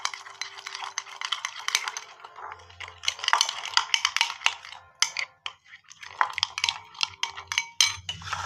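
Turmeric paste being mixed in a bowl for ilish bhapa, a Bengali steamed hilsa dish. Quick, scraping, clinking strokes of a spoon against the bowl come in irregular close-up bursts, with no talk.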